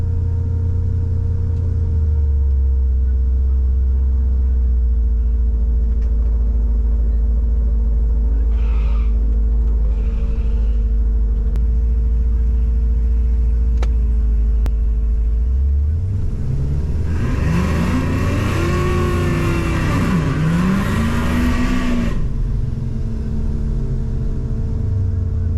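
A Cadillac CTS-V on a racing pass against a Chevy Malibu at a drag event: a steady engine rumble builds into loud, rising acceleration for several seconds, then eases off near the end.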